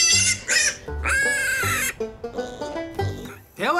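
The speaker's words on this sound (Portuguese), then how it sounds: "Eu acho que o porco vai se dar bem aqui" A young pig lets out several close, bleat-like squeals and cries in short bursts, with people's voices mixed in around them.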